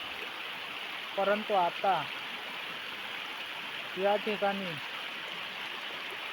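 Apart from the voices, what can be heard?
river flowing in Konkan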